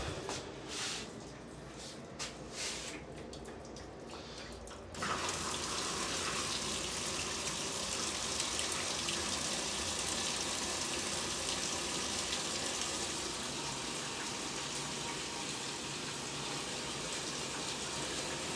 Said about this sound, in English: Yep, it's filling. The wash.